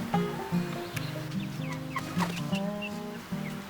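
Young chickens raised for meat clucking in a backyard garden pen, a close, steady chorus of low repeated clucks with a few higher calls layered over it, and no voices.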